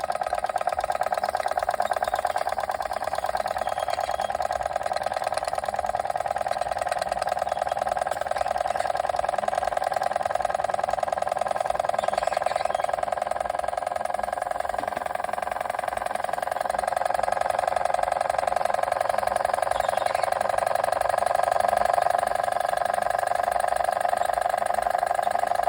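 A small Machinator Steamfire model steam engine runs steadily for a long stretch, a continuous mid-pitched mechanical whir with light rattling, close and constant with no talk.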